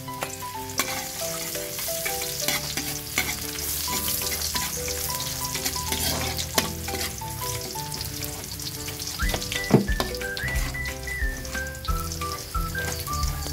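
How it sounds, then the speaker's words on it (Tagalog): Garlic sautéing in a hot pan for a healthy Filipino fish dish, pesang asohos, a steady close sizzle with stirring and clinks of a utensil throughout, no talking. "Okay, magsimula na po tayong mag-gisa. Unahin natin ang bawang."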